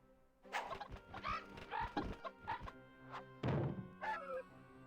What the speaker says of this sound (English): Well, if we're catching a rooster,